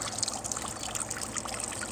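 Water from a garden hose running into a backyard pond, a steady splashing trickle with bright hissing, continuous and close throughout, with no voices.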